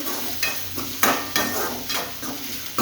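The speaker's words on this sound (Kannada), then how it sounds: "ಸ್ವಲ್ಪ ಕರಿಬೇವು, ಉಳ್ಳಾಗಡ್ಡಿ, ಟೊಮೆಟೊ ಇವನ್ನ ಸ್ವಲ್ಪ ಕಲರ್ ಚೇಂಜ್ ಆಗೋ ತನಕ ಹುರ್ಕೋಬೇಕು" Curry leaves, onion and tomato, with a little cumin, are fried in a pan and stirred, making a soft sizzle broken by regular scraping strokes about every half second.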